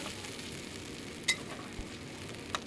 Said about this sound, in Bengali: নেড়ে করে নিচ্ছি, মশলাটাকে ভেজে নিচ্ছি